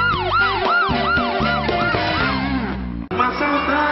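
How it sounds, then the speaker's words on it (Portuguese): A loud, wailing emergency siren with a fast, repeating up-and-down whoop, used as a TV segment signature, close and continuous, briefly cutting out before resuming near the end. "O som da sirene indica que a Blitz Bom Demais tá por aí em algum lugar"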